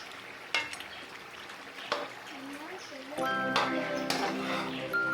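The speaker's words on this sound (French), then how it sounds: "vous pouvez frire directement à l'intérieur de l'huile sans ajouter des oignons" Pork pieces fry in hot oil while being stirred in a pot for traditional village-style kondre, giving a soft sizzle broken by a few knocks from the spoon and a brighter, steadier crackle toward the end.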